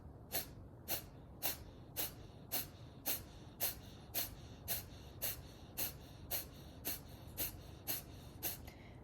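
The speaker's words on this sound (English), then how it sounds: "an active exhale and a passive inhale" Kapalbhati yoga breathing, a steady run of about eighteen sharp, forceful exhales through the nose at an even rhythm, close and fairly quiet, with passive inhales between and no talking.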